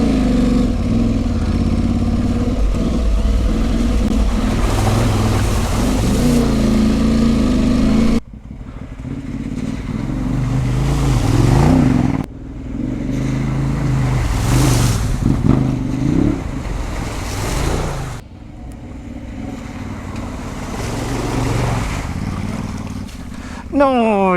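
Motorcycles, including an Aprilia Tuareg 660, ride through a shallow, slimy little stream on a trail ride, engines droning and revving up close throughout, with voices talking over them.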